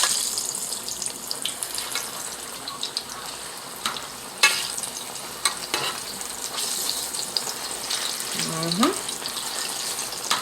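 Chicken wings fry in a pan, a steady close crackle of hot oil punctuated by sharp knocks and scrapes as pieces are turned with a utensil, plus a brief squeak near the end; no speech over it.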